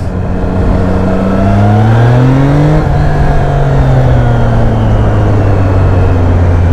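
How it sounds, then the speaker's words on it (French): A Triumph Trident 660 three-cylinder motorcycle engine with stock exhaust runs loud and close, its pitch climbing and then settling into a steady throbbing drone with a fairly mellow exhaust note. "On est sur un pot d'origine, du coup le bruit est... pour un 3 cylindres"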